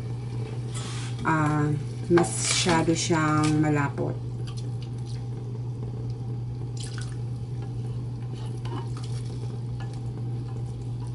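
Water is added to thick canned coconut milk and stirred, giving soft liquid splashes and stirring sounds over a steady low hum, while a voice speaks briefly near the start.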